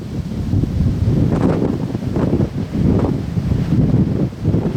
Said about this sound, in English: Probably got 40-mile-an-hour winds right now.